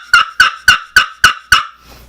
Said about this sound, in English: I like to use these pot calls to locate turkeys